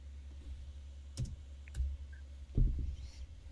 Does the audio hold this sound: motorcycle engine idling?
no